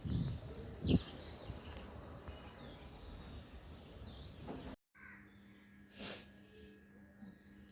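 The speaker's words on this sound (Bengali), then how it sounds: "নেচার সাউন্ড যেটাকে বলে পাখির কিচিরমিচির শব্দ" Birds chirp on a morning heard from a balcony, giving faint, scattered short calls at a distance. One louder call stands out near the end, after a brief cut in the sound.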